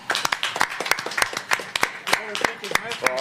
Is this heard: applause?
yes